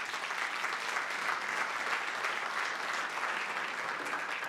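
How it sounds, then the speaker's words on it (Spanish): A church congregation breaks into applause, a steady wash of many hands clapping together for several seconds at a constant level, with no voices rising above it. "Un aplauso."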